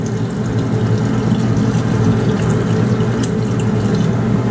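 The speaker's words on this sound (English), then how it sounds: "I'm gonna pour about 500 ml into the SIM cards now." Pouring 3% hydrogen peroxide from a 1-liter bottle onto cell phone SIM cards gives a steady, loud liquid gurgle and splash that runs without pause, close by, with no voices.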